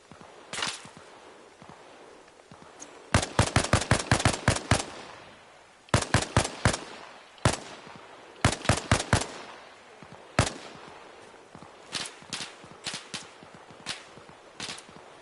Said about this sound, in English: They're shooting from way over there.